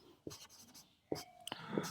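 Pen or marker strokes while writing out a quadratic polynomial formula in a maths lesson, several short quiet scratching bursts with pauses between them, close and faint, with a breathy near-whisper of voice.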